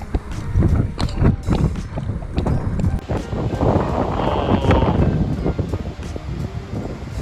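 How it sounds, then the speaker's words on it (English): Strong wind from a fall storm at a lake roars and buffets steadily across the microphone, with gusty rumbling and rustling throughout, loud and continuous. "I don't think you guys understand how windy it is."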